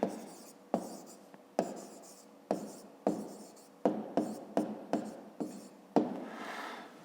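A pen scratches across paper while a math answer is written out, making a series of about a dozen short strokes in an uneven rhythm, close and clear with no voices.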